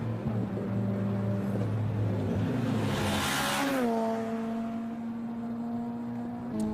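Front-wheel drive Civic Cup race cars lapping the Brands Hatch circuit, a loud steady engine drone with shifting pitch, one car's note dropping as it passes and a brief tyre squeal.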